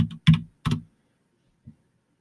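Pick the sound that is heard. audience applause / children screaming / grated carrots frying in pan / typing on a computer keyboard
typing on a computer keyboard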